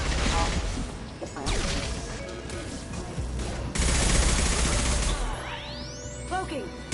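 Weapons fire in the Mass Effect 2 video game comes as loud, dense bursts of gunfire and impacts, continuous throughout, with rising electronic whooshes near the end.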